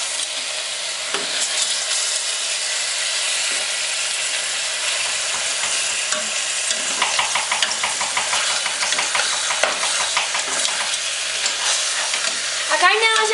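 Meat frying in a pan and being stirred after a couple of pinches of salt, a continuous bright sizzle with rhythmic scraping strokes growing busier toward the end, close and alone.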